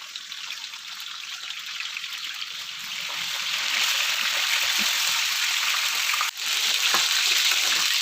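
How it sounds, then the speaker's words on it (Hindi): Chicken pieces frying in oil in a pot for a spicy steam roast, a steady bright hiss of sizzling that swells louder partway through and continues without talk. "इसमें अब हम ये चिकन के पीसेस जो हैं इनको फ्राई कर लेंगे।"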